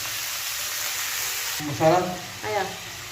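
Onion, tomato and green chili hit a hot pan, a steady sizzle followed by two sharp bursts of louder frying as the vegetables go in and are stirred.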